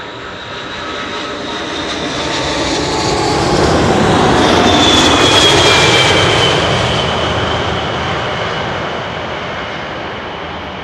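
A large airliner landing at Schiphol on the Kaagbaan runway with thrust reversers engaged, a roaring jet engine swell that builds loudly to a peak mid-clip and then fades away, with no talk.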